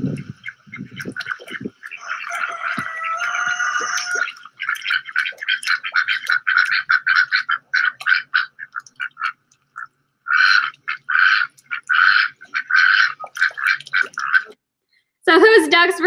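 Ducks quack in a pond in quick, repeated bursts, some overlapping, with pauses between runs; other animal calls and a brief squawk mix in outdoors.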